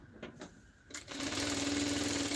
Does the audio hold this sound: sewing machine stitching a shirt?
yes